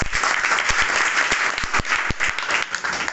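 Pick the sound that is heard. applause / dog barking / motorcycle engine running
applause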